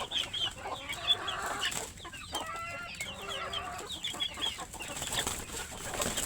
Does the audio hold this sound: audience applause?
no